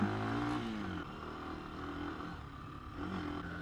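A Lexmoto Assault 125cc motorcycle riding across grass, its small single-cylinder engine droning steadily at moderate revs, dipping briefly and rising again near the end, fairly close and quiet, with no talking.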